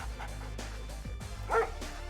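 Attack dog unit in the Red Alert 2: Yuri's Revenge strategy game barks in a short burst of repeated yapping barks, moderately loud over steady game music and sound effects.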